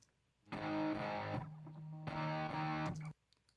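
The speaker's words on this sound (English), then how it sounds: "Now we have these guitar stacks that are in the hook." Two loud bursts of heavily distorted electric guitar chords, each ringing for about a second with a brief gap between, then ending abruptly.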